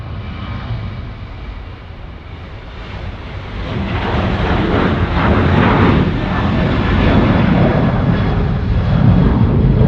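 Airbus A380 jet engines at Sydney Airport give a broad, steady roar that swells after a few seconds and holds loud and close, with no talk over it.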